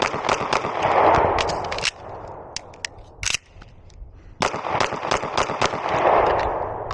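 A Beretta PX4 pistol fires a five-reload-five drill at 7 yards: a quick string of sharp, loud shots, a short pause for the reload, then a second rapid string, each crack ringing out outdoors.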